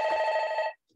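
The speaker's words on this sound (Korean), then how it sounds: "죄송 전화가 왔네." A telephone rings once in a steady electronic tone, close and clear, then stops. A faint stir of sound follows in a quiet room during a lecture.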